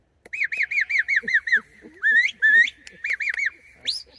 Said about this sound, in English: So at distance you use whistle sounds.